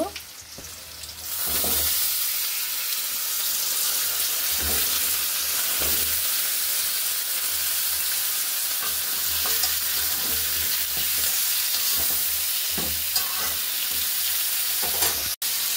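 Washed pumpkin pieces fry in a pan, making a loud, steady sizzle that runs almost the whole time, broken by stirring knocks. A sharp clatter comes near the end, and nobody speaks.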